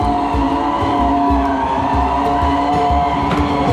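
A motorbike races along a road in Mechuka, Arunachal Pradesh, its loud sustained engine roar filling the whole stretch with a continuous close rush of noise.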